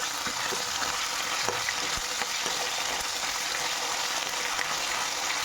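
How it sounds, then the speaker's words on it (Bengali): Potatoes with a little ginger stir-fried in a pan give off a steady, dense sizzle with occasional soft scrapes from stirring, close and continuous, with no voices. "আদাটা দিয়ে ভালো করে আমি আলুটাকে কিন্তু কষাবো"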